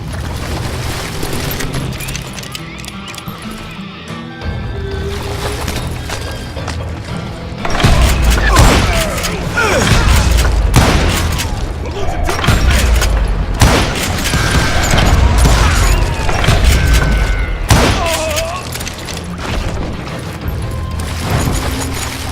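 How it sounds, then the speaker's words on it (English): A heavy volley of gunfire in the Call of Juarez Gunslinger video game, with dense overlapping shots and booms building into a loud, sustained barrage, punctuated by sharper bursts over a rumbling background. "a fusillade of bullets come raining down from on high"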